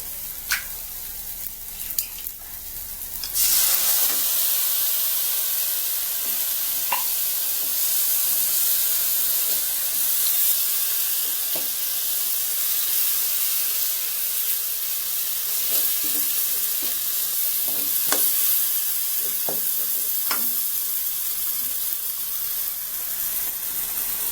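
Canned fish drops into a hot pan, and the oil erupts into a loud hissing sizzle a few seconds in. The sizzle stays steady and close, with a few faint clicks on top.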